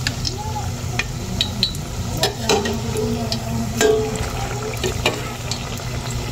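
Tofu kwek-kwek frying in very hot oil, a steady close sizzle with occasional stirring clicks and scrapes, no talk over it.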